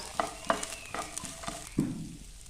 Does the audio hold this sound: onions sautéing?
yes